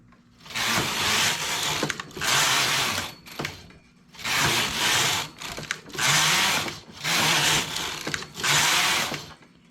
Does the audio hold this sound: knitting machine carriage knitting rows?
yes